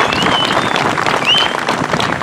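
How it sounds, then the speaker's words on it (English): Crowd applauding at a Toys for Tots motorcycle run in Colorado Springs, a loud, dense burst of clapping close by with some cheering and whistles. "So can we give him a round of applause"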